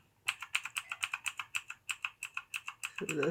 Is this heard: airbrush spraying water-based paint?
no